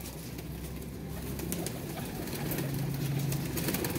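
Teddy pigeons coo in soft, repeated low rumbling calls, close by and fairly steady, with a faint engine hum behind and no talking.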